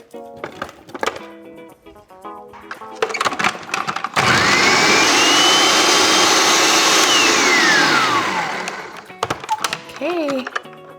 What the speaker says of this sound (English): We're going to add them to our food processor, or you could use a blender so we can puree them until smooth.